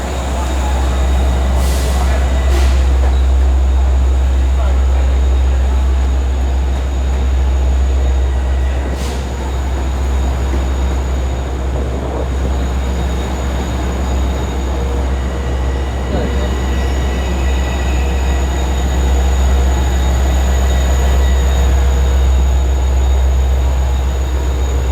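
An MTA Oyster Bay Line train rides the rails, giving a loud, continuous rumble with a few brief squeals and clicks near the start and again partway through, with no talking.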